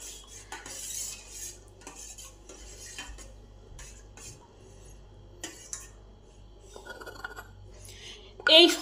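Crushed ginger, mango ginger, lemon leaves, curry leaves and mint stirred into a sugarless sherbet, with a spoon clinking and scraping against a vessel in irregular bursts, close and clear, ending in a louder clatter.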